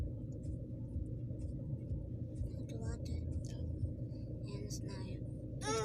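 A car drives along a road, heard from inside as a steady low rumble of engine and tires that runs throughout, with someone talking quietly over it.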